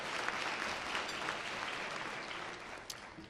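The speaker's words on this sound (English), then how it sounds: "Why don't you just stand up and get a round of applause from our group here?" A roomful of attendees at a health disparities summit applaud continuously, a steady, fairly close wash of clapping lasting a few seconds that tapers slightly toward the end.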